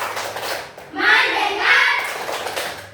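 Children in a classroom perform the tepuk fokus clapping routine, chanting loudly in unison with a few sharp hand claps around the chant.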